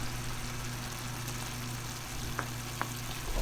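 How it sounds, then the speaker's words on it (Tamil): Crab pieces stirred into a pan of frying masala for crab gravy, giving a steady close sizzle with a low hum beneath and two brief scraping knocks of stirring. "நண்டு பீஸு எல்லாத்தையுமே நம்ம இதில் சேர்த்துக்கிட்டு நல்லா கலக்கி விட்டுறலாம்"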